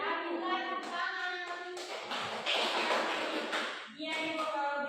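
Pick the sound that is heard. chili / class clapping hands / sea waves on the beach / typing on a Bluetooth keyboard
class clapping hands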